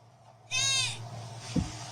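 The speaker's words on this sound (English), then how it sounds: "That's a goat." A goat bleats once at night, a loud, wavering cry in the middle of a quiet outdoor recording, followed by a brief low thump.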